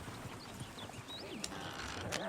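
Faint, steady hoofbeats of a horse clip-clopping in Red Dead Redemption 2, low and distant under a soft hiss of ambient game sound.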